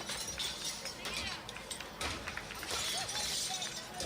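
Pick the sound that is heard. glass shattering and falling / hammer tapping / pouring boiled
glass shattering and falling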